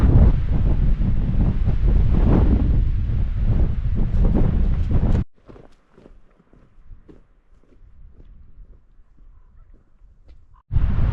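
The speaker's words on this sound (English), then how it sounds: "So it's pretty windy up here." Strong wind buffets the microphone on the exposed summit of Big Southern Butte among wind-bent white pines, loud roaring gusts for about five seconds, then a sudden drop to quieter breezy rustling before another blast at the end.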